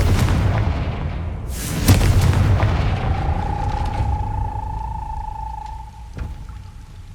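A Confringo blasting spell goes off in Hogwarts Legacy as a deep, loud boom near the start, its rumble trailing under a sustained magical hum that fades out, with a sharp thud near the end.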